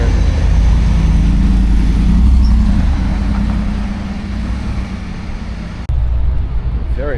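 A Mercedes-Benz SLR McLaren engine in Monaco street traffic, a loud, close, steady rumble with road noise, dipping briefly near the end before rising again.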